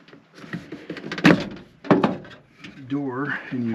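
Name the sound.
Volkswagen Vanagon door being opened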